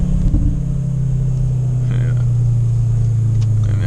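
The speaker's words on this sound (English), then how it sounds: "how the car sounds on the inside when you're driving it" Inside a 2022 Audi S3 while driving through a roundabout, a low, steady engine and road drone hums throughout, with a brief word spoken over it.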